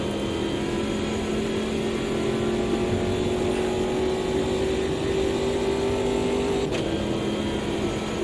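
A 370hp V8 race car engine in the Automobilista 2 racing game holds a loud, steady droning roar under throttle, with the pitch changing slightly and shifting briefly near the end, and no talking.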